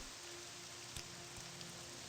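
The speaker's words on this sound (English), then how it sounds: "It's still raining." Steady soft rain falling in Morrowind, a continuous faint hiss of drops with a couple of slightly louder taps and no voices.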